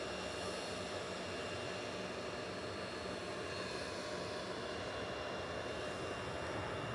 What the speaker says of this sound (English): Ryanair touching down in the background